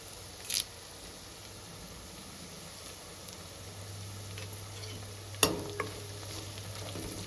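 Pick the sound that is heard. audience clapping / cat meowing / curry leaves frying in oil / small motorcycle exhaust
curry leaves frying in oil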